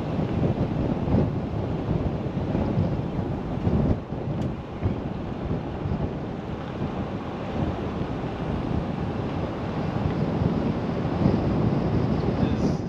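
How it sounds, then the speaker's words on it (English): Steady wind buffets the microphone in rough gusts that rise and fall, with no voices. "Very windy today. It's coming and going, actually."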